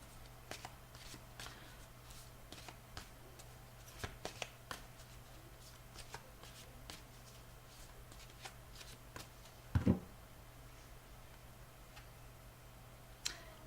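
Oracle cards shuffled and drawn by hand, heard as quiet, close riffling and light ticking flicks scattered through the clip, with one sharper slap of cards near the end and no talking.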